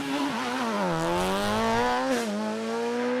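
A Proton Satria rally car driving hard on a closed stage in Tipperary, its engine a loud, close, steady drone that rises and dips in pitch as the driver works the revs.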